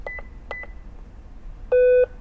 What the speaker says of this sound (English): We hear the beep, that means it's ready for the next value.